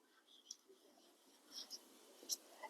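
Faint, sparse scratches and taps of writing on a board during a Class 12 probability lesson, a few short strokes near the start and a cluster toward the end, quiet in the room.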